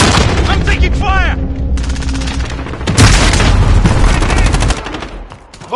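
Loud, close rapid gunfire from Call of Duty Modern Warfare, with dense automatic bursts and heavy booms that fill the whole clip, dipping slightly near the end.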